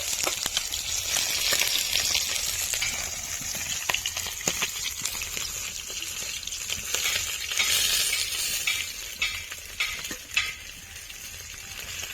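Bhola fish fries crisp in hot oil in a pan, giving off a bright, steady sizzle with scattered spatter pops and occasional clinks of a spatula turning the pieces. The sound is close and continuous throughout.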